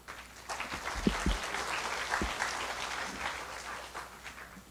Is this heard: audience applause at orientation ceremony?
yes